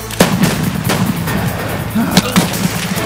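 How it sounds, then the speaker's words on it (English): Close, loud gunshots in Escape from Tarkov, a few sharp cracks spread across a tense standoff, with brief shouted voices under the shots. "He's shooting at us."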